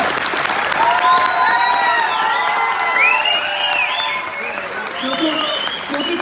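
Seminar audience clapping at a business event, loud sustained applause with some cheering and whoops, sung or shouted voices weaving over the top throughout.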